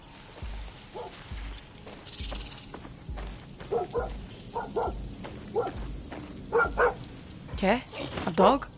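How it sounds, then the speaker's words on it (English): A dog in a video game barks in repeated sharp bursts and yips that grow louder and more frequent toward the end, over a steady thumping rhythm and in-game background ambience. "Okay, a dog? How did you get in here, boy?"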